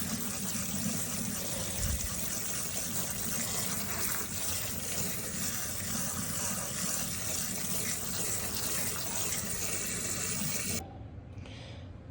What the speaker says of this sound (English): Rinse your pasta with cold water to stop it from cooking.